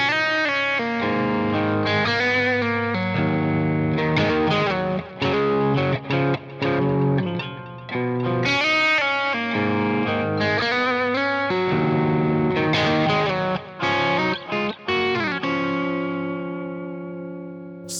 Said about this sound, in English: I'm using the same sound with just a little bit delay